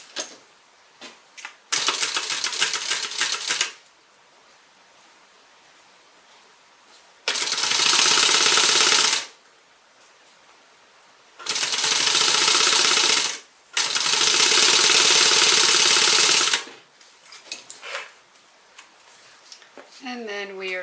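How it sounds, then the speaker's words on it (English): A sewing machine stitches a zipper seam on a faux croc tote bag, running in several loud, steady bursts of a few seconds each, separated by quiet pauses and small handling clicks. "we're going to stitch this in place"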